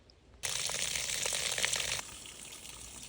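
Water gushes out in a steady close hiss while the garden is watered, starting abruptly and running for about a second and a half before easing to a softer flow.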